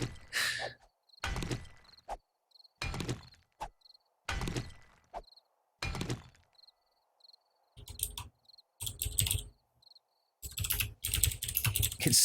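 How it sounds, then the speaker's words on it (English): Bursts of clattering computer keyboard typing, several short rapid runs of keystrokes separated by pauses, close and clear, with a faint chirping cricket sound in the quiet gaps. "It's so hard typing on this keyboard."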